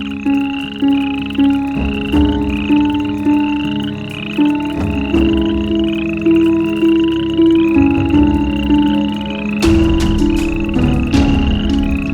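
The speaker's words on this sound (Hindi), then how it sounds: "मेंढक के टर्राने की आवाज है" Frogs croak repeatedly in a loud, pulsing chorus, with regular rasping calls and a few sharper clicks standing out.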